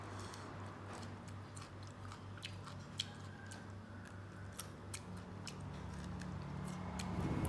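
Crisp bites and crunchy chewing on fried pork rinds, close and quiet, with small sharp cracks scattered over several seconds and no talk.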